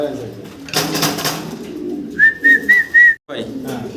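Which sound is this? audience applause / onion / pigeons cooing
pigeons cooing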